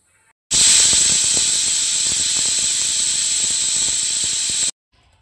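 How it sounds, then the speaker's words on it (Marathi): A pressure cooker whistle on a gas stove, cooking black chickpeas for chana masala, lets out one loud, sustained, high-pitched steam hiss lasting about four seconds, then cuts off abruptly into silence. "अशाच पद्धतीने आपण 5 ते 6 शिट्ट्या कुकरच्या काढून घेणार आहोत"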